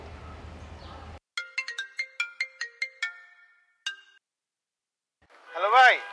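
A phone ringtone plays during a call as a quick series of bright, evenly spaced electronic chimes, followed by a single chime after a pause, with a voice starting up afterward; the background is otherwise quiet.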